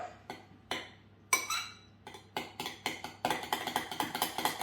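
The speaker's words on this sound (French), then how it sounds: "on va la mélanger donc avec notre petite cuillère" A small spoon clinks against a bowl while stirring a chicken loaf mixture by hand, sparse metallic taps at first that turn into a quicker, steady run of light clinks.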